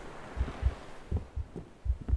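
Deep, close heartbeat thuds from the survival builder game Tribe pulse in paired beats at a steady pace, low and muffled like pounding in the ears, over a soft hum.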